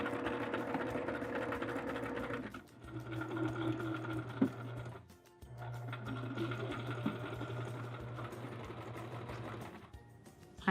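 A sewing machine stitching fabric for a Star Wars-themed basket, its motor whirring in two long steady runs separated by short pauses, close and fairly quiet, with small clicks between bursts.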